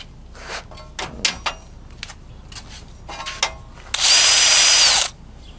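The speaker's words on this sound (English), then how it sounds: "I'll wire wheel, take a wire wheel and a drill, and just see the soot here." Scattered metallic clicks and taps lead into a loud burst of a drill spinning a wire wheel for about a second, close up, cleaning soot off a weld.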